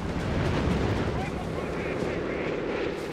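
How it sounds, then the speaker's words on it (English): A Company of Heroes 3 artillery barrage rumbles as a steady wash of deep, overlapping blasts and distant shell bursts, loud and continuous across the whole short stretch. "Artillery barrage."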